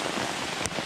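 Heavy rain pouring down on a solo camping site with a military-style canvas tent, a dense, loud, steady hiss with one sharper splash near the end.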